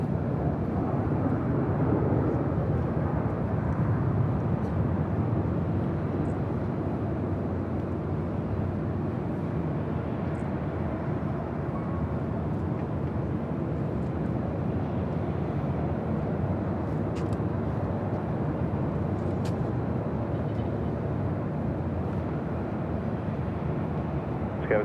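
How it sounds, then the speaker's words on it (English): A Lufthansa Boeing 747-8 Intercontinental arriving at LAX from Frankfurt, a loud, sustained low jet roar that stays steady and close for the whole stretch. "This is Lufthansa 456 coming in from Frankfurt on the 747-8 Intercontinental"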